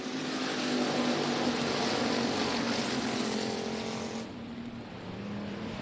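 Race cars restart at Kennedale Speedway after the green flag, a continuous roaring engine drone from several cars at a distance that dips slightly near the end before carrying on.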